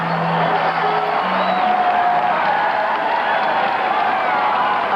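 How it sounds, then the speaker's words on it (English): A dense crowd cheers, claps and whoops at the Ironman Hawaii triathlon finish line in 1986. The roar is steady and loud for the full stretch, with scattered voices and whistles rising out of it. "I hear all those people cheering"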